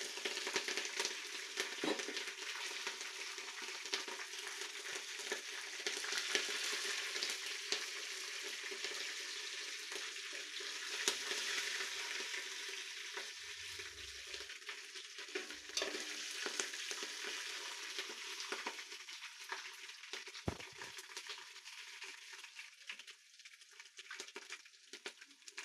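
Green chillies fry in hot oil with a steady, dense sizzle and crackle that runs throughout, with occasional stirring and small clicks close by.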